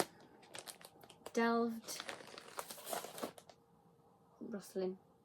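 A bag rustles during an unboxing of a cross-stitch haul: short, crinkly bursts of rustling and crumpling mixed with a person speaking close by.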